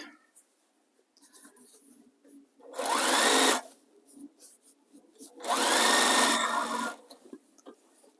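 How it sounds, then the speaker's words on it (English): A sewing machine stitches fabric in two short bursts, each a buzzing whir lasting about a second, separated by quiet pauses with faint handling noises. "Just do a couple stitches at a time."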